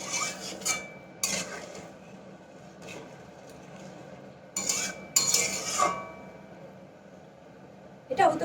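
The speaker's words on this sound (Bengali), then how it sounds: "ভালো করে নেড়ে নেব।" Pulao in a pot is stirred with a metal spoon after hot water goes in, giving several short clattering scrapes against the pot separated by quieter gaps, with a faint background hum.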